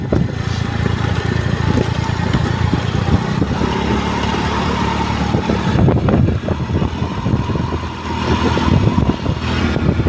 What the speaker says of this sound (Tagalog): parang tumahimik yung motor ko nabanat yata sa rides